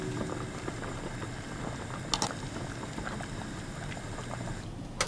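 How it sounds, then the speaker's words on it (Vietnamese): Pork simmering in a pot of salted boiling water, a steady bubbling roil throughout with a few brief clinks near the middle and at the end. "mình cho thịt vào luộc trong 2 phút nha, kể từ khi nước sôi"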